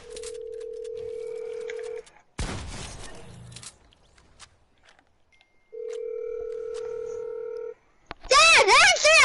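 A phone places a call: long, steady electronic tones sound twice, with short dialing beeps and quiet rustling between them, and a burst of warbling tones at the end.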